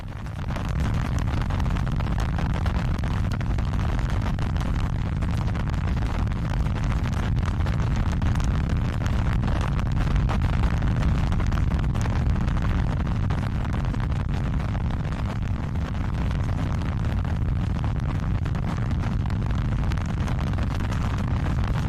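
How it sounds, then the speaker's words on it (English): A Blue Origin BE-4 rocket engine test firing roars as a loud, unbroken deep rumble with a steady, hissing, wind-like texture that holds its full force for more than twenty seconds. "You can see the BE4 engine testing"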